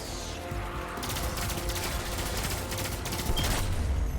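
Sustained rapid automatic gunfire from the video game Destiny, a dense, loud fusillade of shots that continues steadily across the whole stretch with no voices over it.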